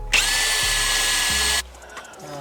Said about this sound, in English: So far I'm drilling these 2 holes, trying to figure out, because there is a metal plate underneath of that